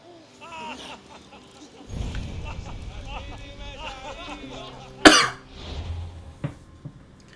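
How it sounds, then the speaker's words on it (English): A single sharp cough bursts out partway through, standing above ongoing game dialogue and ambient background sound in an Assassin's Creed Odyssey scene. "I swear this cough is pissing me off."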